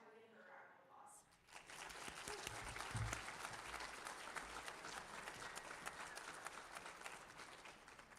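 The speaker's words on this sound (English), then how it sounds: "I just want to give her a round of applause" Sustained applause from an audience at a senior awards assembly for Janelle, a dense steady clapping crowd after a brief spoken lead-in, faint overall.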